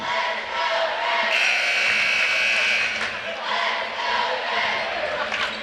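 Crowd at a high school basketball game between Metamora and Pekin during a timeout, a steady murmur of many voices in a gym, with a brief rising cheer or shout near the start.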